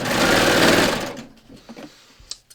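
A Baby Lock serger stitches a cover hem over a stitch pad in a loud, fast whirring burst that stops after about a second, leaving faint clicks and handling sounds.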